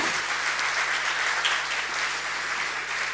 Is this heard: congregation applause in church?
yes